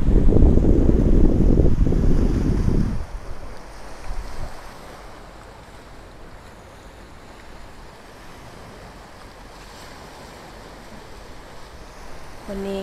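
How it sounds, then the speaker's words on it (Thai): Strong wind roars across the microphone at a Pattaya beach by the marina, loud and buffeting for the first few seconds, then easing into a steady rush of waves and breeze. "วันนี้ก็จะลมแรงนิดหน่อยนะคะ"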